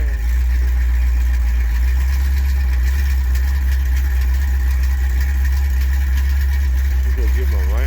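A Mopar car engine idles at a swap meet, a loud, steady low rumble that holds for the whole stretch with no breaks, close by, under faint background chatter.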